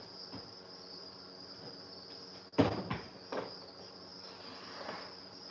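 Newly hatched baby crickets chirp in a steady high-pitched drone from storage bins, with a few sharp plastic knocks and handling clatters breaking through partway.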